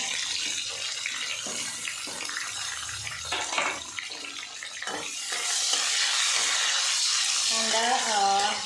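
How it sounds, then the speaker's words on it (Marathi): Onion frying in a sizzling tempering of cumin, mustard seeds and curry leaves, a steady broadband hiss broken by stirring clatter, with rain falling outside and a voice speaking briefly near the end. "फोडणीमुळे आणि बाहेर पाऊस चालू असल्यामुळे आवाज थोडासा कमी येत असेल."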